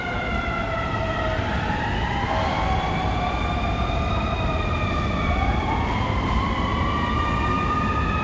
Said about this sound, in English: more sirens now.